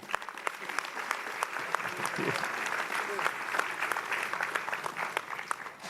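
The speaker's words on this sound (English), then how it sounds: "please applaud your neighbor for being here tonight" Town hall meeting audience with Mayor de Blasio claps steadily for about six seconds, a dense, even roomful of applause with scattered sharper claps, brief voices mixed in.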